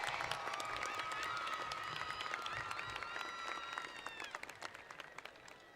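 Sustained applause from a high school graduation audience, a dense wash of many hands clapping steadily, with crowd noise and faint voices mixed in, holding strong before slowly thinning toward the end.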